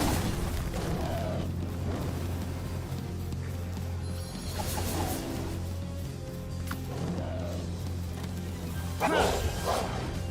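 The Blaze Howl creature in Palworld barks in short bursts amid a dense, continuous wash of battle noise and rumbling game effects, with no voices.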